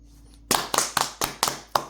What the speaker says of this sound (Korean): 그래도 뭔가 박수라도 치면서 이렇게 추임새를 넣고 해야지.